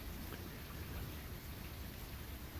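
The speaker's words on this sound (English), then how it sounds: "listening to the rain and wind and the rushing of the water in that street sewer" Steady rain falls outdoors on a northern Illinois evening as a thunderstorm passes, a dense, even hiss of drops close by with no voices.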